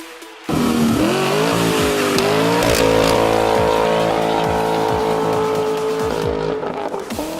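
A 2015 SRT Jeep Grand Cherokee with a Kinney's Tunnel Ram performance exhaust roars loudly and steadily for several seconds after a quiet start, its deep engine note rising and settling through revs with no talking.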